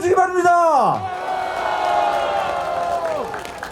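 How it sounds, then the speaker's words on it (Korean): A large crowd at a Gwangju rally cheers and applauds loudly, with shouts and whoops rising over a sustained wash of clapping that fades slightly toward the end. "동의하시다면 커다란 박수 함성으로 답해주기 바랍니다"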